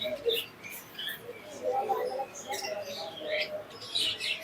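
A pair of yellow-sided conure parrots gives scattered short chirps and squeaky calls, fairly faint, with a voice talking softly in the background.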